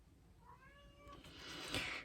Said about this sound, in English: the cat wants back in